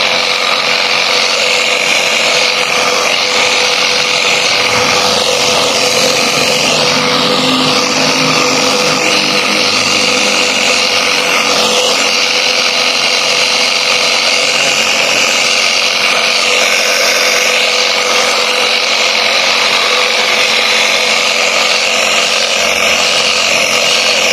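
A spray washer runs continuously while cleaning a motorcycle, giving a loud, close, steady hiss and motor whine with only small shifts in tone as the spray moves across the bike.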